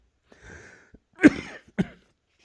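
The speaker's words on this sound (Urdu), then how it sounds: "معذرت ہے کھانسی کی" Two sharp coughs close by, the second shorter, following a soft throaty rustle, with a quiet room in between.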